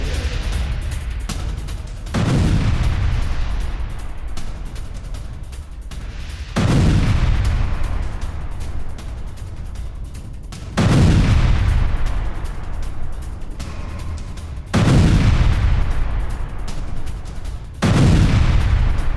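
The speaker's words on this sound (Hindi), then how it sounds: "गाजा में आईडीएफ का विध्वंसक हमला" Repeated heavy explosions from military strikes in Gaza, five deep booming blasts spaced a few seconds apart, each with a sharp onset and long rumbling decay, loud and alone with no talk.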